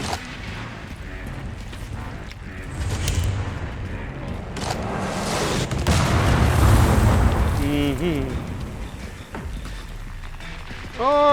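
Mortar explosions in the video game Resident Evil Requiem thud and boom amid dense game noise, the heaviest burst swelling near the middle, while someone talks over the action.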